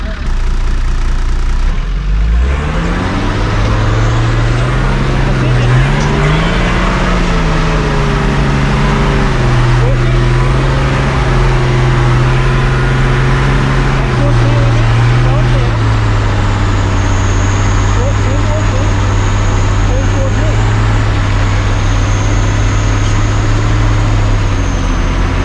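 A car engine holds a loud, steady drone with a rising and falling pitch as the vehicle spins out at a nighttime off-road crawling event, continuous and close for the whole stretch, with faint voices in the background.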